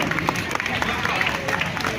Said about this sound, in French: On applaudit la famille Mvavile